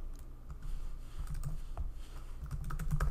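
Keys clicking in quick, uneven bursts as VBA code is typed on a computer keyboard, close and fairly quiet, with no talking.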